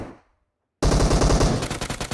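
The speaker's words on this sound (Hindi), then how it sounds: "अबे कहां गोलियां चल रही है?" Rapid automatic gunfire in the PUBG battle royale game, a loud sustained burst of closely spaced shots starting abruptly after a brief quiet lead-in and continuing steadily to the end.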